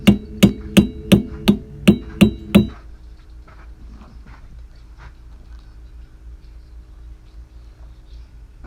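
Eight sharp metallic hammer strikes on a rusted wheel bearing of a 2003 Chevy Silverado, in a quick, steady rhythm, loud and close, then they stop and only faint background clatter remains.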